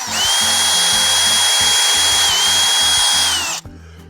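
A power drill bores a hole through wood for the handle of a handmade garden basket, one loud steady whine lasting over three seconds up close, then stopping abruptly.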